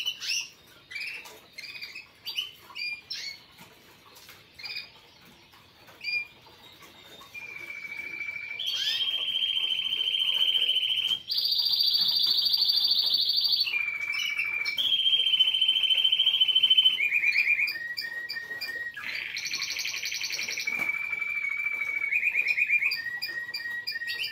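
A caged songbird singing at a close-range bird song assessment, starting with short scattered chirps and then moving into long sustained whistled notes and trills that shift pitch, alone and fairly clear.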